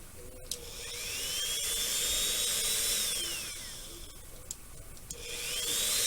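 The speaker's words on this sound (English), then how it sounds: "Something's up with this Dremel, like, there you go" A Dremel rotary tool whines at high pitch while working on a model base, its motor speed rising and falling as it revs up, slows and spins up again, near and fairly loud, with a few clicks and no talking.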